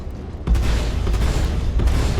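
Omnisky VI laser cannons mounted in a ship's nose fire in Star Citizen, heavy booming bursts with deep low-end thumps, a sharp onset after a quiet half second, then a dense continuous barrage with a second punch near the end.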